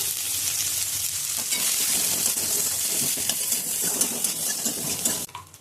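Chopped onion, a dried red chili, bay leaf and cumin sizzle loudly in hot oil, a dense steady frying hiss with stirring scrapes throughout before it drops away near the end.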